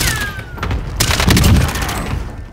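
Rapid bursts of gunfire from the video game Call of Duty: Warzone crackle loud and close, overlapping shots and sharp reports running throughout with a dense, chaotic texture.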